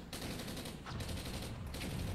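Gunfire in Crisis Core: Final Fantasy VII: rapid bursts of shots in quick succession with a couple of brief gaps, faint and distant-sounding under steady noise.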